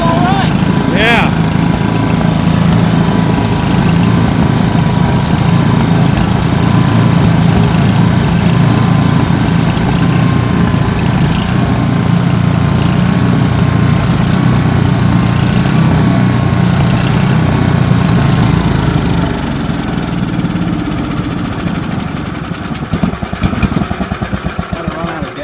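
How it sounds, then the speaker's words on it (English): A 1972 Briggs & Stratton 8 horsepower engine with cast-iron crankcase runs with a loud, steady small-engine drone, close by, then sags and sputters near the end as if running out of fuel; people speak over it. "The old 1972 8 horsepower aluminum sandwich cast iron crankcase Briggs."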